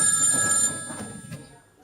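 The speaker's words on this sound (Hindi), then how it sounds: "और फोन कर रहा है" A telephone rings briefly with a steady electronic tone that stops after under a second, leaving a murmur of room sound behind.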